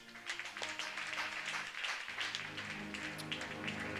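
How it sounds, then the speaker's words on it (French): A church congregation claps together in a crisp, scattered patter of many hands, moderately loud over sustained musical tones underneath, without any talking. "on nous applaudit les amis ça"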